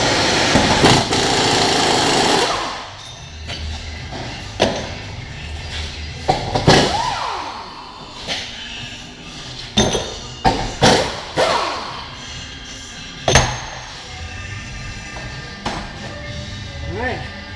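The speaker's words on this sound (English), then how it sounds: "We're gonna go around and remove all the 18mm frame bolts." Mechanic removes 18mm frame bolts on a 2004 Buick LeSabre during transmission removal: a loud power tool whir at first, then scattered clanks, thuds and metallic knocks of tools and bolts, with a voice talking intermittently.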